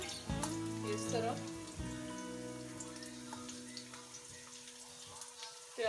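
Chopped onions hit a hot oiled pan for vegetable rice and break into a steady close sizzle, a bright hiss and crackle that settles but carries on throughout, with no talking.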